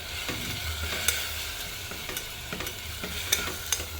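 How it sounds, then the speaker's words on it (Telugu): Onions frying in a generous amount of oil for mutton curry with raw mango, a steady crackling sizzle with occasional sharp pops and stirring scrapes, close and continuous. "ఆనియన్స్ వేసుకొని దీన్ని బాగా కొంచెం ఫ్రై అవ్వాలన్నమాట."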